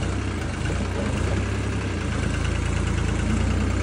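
A New Holland 3630 tractor engine runs at a close, loud, steady low rumble with constant vibration while the tractor slips under load, and no voices are heard.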